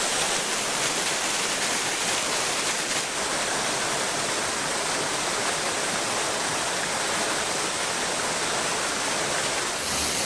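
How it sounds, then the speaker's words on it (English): A waterfall in a Northland rainforest on New Zealand's Kauri Coast roars as a steady, dense rush of falling water, loud and continuous throughout with no other sounds. "Sweet waterfall."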